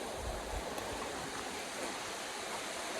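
A constant rushing of a river flowing below a road at Malshej Ghat, broad and even like a stream, steady throughout with no voices.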